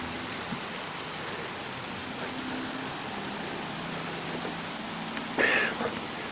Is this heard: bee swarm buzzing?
no